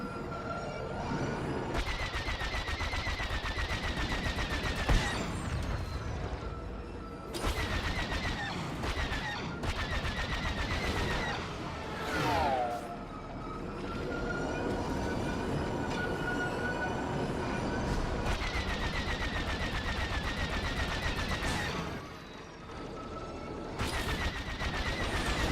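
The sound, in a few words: gunfire on a spaceship in a video game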